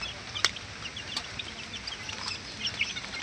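Chickens clucking in a backyard poultry yard among a hen and her chicks, a few soft scattered clucks and chirps at moderate distance over low ambient noise, no speech.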